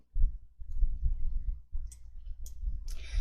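A computer mouse clicks a few times, sharp and close, while sorting data in an Excel spreadsheet, the clicks sitting over a low background hum.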